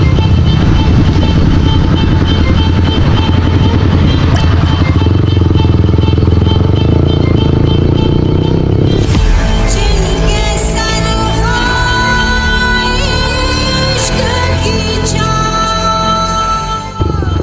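A motorcycle engine drones loudly and steadily while riding on a long ride through Chhattisgarh, a constant low rumble with wind and road noise that shifts in tone partway through, no talk.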